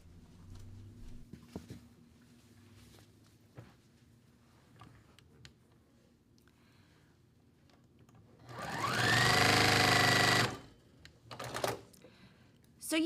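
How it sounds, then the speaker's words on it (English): Sewing machine stitching seams on a heart quilt block, a steady fast whir rising in speed and lasting about two seconds, close and loud against a quiet room with faint handling noises before and after. "We're going to sew these 2 seams"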